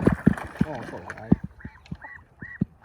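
Ducks and geese honk and quack in a backyard flock kept with chickens, several short nasal calls in a loose rhythm at close range, while someone talks over the first half.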